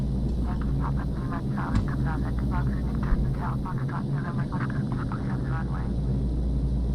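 Fokker 50 turboprop airliner taxiing after landing in the Prepar3D flight simulator, a steady droning engine hum with a pulsing mid-range whine throughout, while someone talks over it.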